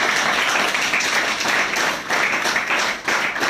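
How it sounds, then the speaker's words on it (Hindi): A seminar audience claps loudly and continuously for a network marketing trainer's guest, dense applause filling the room for the full few seconds with no talk over it. "जोरदार ताली बजाओ।"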